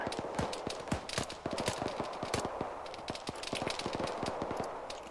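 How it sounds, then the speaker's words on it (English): Rapid bursts of gunfire crackle in quick succession over a steady background rumble, loud and close, like a battle scene in a game. "He's gonna hear those shots."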